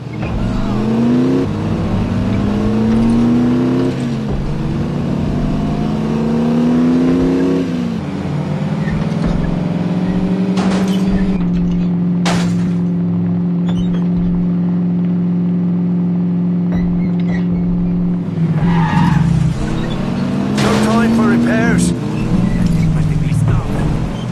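A car in a WWII-era video game set in occupied France revs and pulls away with a steady engine drone, rising and falling through gear changes, with a brief skid or tyre screech partway through; no talking.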